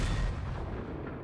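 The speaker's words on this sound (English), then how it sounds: "Makes sense that it would be the cannon shot" Tristana's cannon shot in League of Legends champion select: a single heavy booming blast that rolls off into a fading rumble, loud and close.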